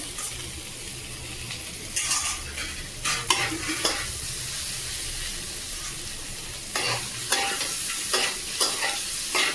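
Maggi noodles cooking in oil in a pan over a high gas flame, giving a constant sizzle broken by bursts of vigorous scraping stirs, loud and close.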